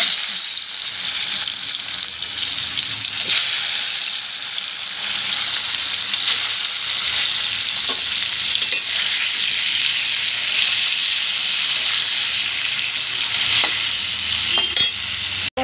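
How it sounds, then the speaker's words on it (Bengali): A boal fish head fries in hot oil left over from frying potatoes, a loud, continuous crackling sizzle close by with occasional stirring scrapes, lasting throughout. "আমি আলু ভাজা তেলেই মাছটা ভেজে নেব। মাছ দিয়ে দিচ্ছি।"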